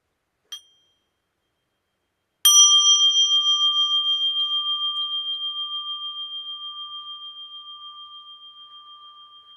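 A mindfulness bell: one soft tap, then about two seconds later a single clear strike that rings out as a pure sustained tone, fading slowly with gentle pulsing over several seconds in otherwise silent surroundings.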